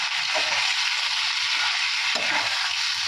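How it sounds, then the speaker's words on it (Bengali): Potatoes fry in a pan with a continuous close sizzle, broken by a couple of brief stirring scrapes that briefly change the crackle. "তো আলুগুলো ভাজা ভাজা হচ্ছে"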